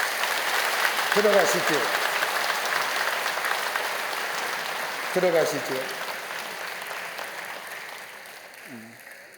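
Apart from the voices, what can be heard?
church congregation applauding to welcome newly baptized infants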